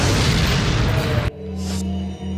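A grenade goes off in Resident Evil 4 with a loud, broad blast that fills the first second, then cuts off sharply into a low hum of game ambience.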